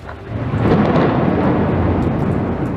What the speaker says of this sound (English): along with thunder so fierce it set off car alarms